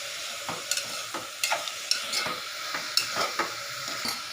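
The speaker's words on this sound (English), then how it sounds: "Just mix all the vegetables and cook for 1 minute." Chopped vegetables for oats khichdi are stirred and half-cooked in a pan, with a soft steady sizzle broken by repeated scraping strokes of a spoon against the pan, close and fairly quiet.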